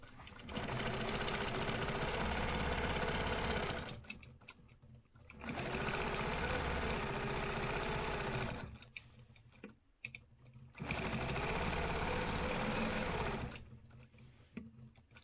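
A sewing machine stitches a quilt along a stencil line in three sustained runs, each lasting a few seconds, with brief quiet pauses and faint clicks between them.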